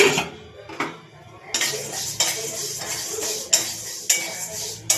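Dal frying in a pan, stirred with a metal utensil: repeated scraping strokes and sharp clinks against the pan over a soft sizzle, fairly close, with brief speech at the start.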